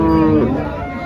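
Cattle moo at a busy Jersey and HF cow market, a single drawn-out, fairly loud low call heard close by over a background of crowd chatter.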